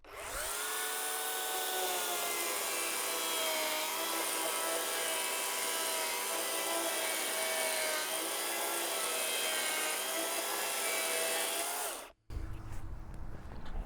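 An electric saw run from a power inverter whines steadily while cutting for about twelve seconds, a loud, even high-pitched drone that stops abruptly and gives way to low rumbling noise.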